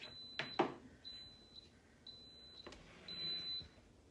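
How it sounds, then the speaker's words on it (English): An Instant Pot signals that mac and cheese is done with a series of four evenly spaced high electronic beeps, clear in a quiet kitchen with a couple of soft clicks near the start. "the famous beep that says it's done"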